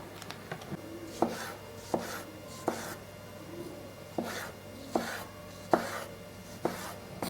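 Ginger, garlic and Sichuan pepper are pounded together for village-style cooking, a series of about ten dull, evenly spaced thuds with a light scraping between strikes, fairly quiet and close.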